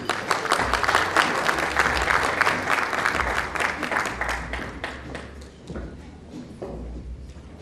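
A gala audience at a business conference bursts into loud, dense applause that carries on with rhythmic clapping, then thins and fades toward the end as a voice begins to speak.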